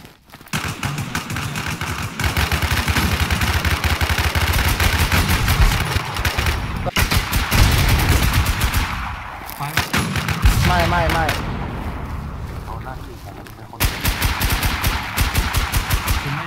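Sustained automatic gunfire in the online zombie-survival shooter Infestation, dense rapid bursts running almost continuously with brief pauses, loud and close, with players talking over it at times.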